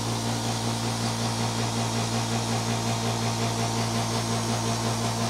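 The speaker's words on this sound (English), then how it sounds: "That is rather quiet for an air compressor." VEVOR air compressor running with a continuous, fairly quiet motor hum and steady mechanical hiss, close and unbroken, with no voices.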